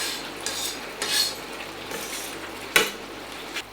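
Finely chopped tomato sizzles in a pan of chicken korma base as it is stirred, giving soft scraping sweeps and a sharp utensil clink against the pan over a low, steady frying hiss.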